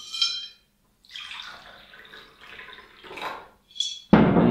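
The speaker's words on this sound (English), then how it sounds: "We put distilled water." Distilled water pours in short bursts with soft splashing and trickling, then a sharper, louder splash at the very end; the sound is close and stands alone with no talk.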